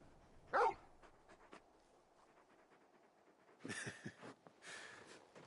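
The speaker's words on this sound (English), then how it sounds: "You're just a big puppy, aren't you? A very big puppy." Brief yelps and whimpers from a large dog in Final Fantasy XVI: one sharp loud yelp early on, then quieter soft whines with a few faint sounds toward the end.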